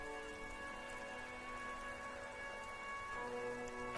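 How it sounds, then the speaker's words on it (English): Steady rain falls over city streets and apartment blocks in Disco Elysium, a soft, even patter with a faint tonal drone beneath, quiet and continuous. "A silvery curtain of rain over the houses,"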